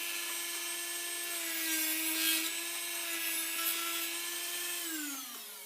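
A Dremel rotary tool cuts through a granola bar with a continuous high-pitched whine and a rasping grind, holding steady for around five seconds and then winding down at the end.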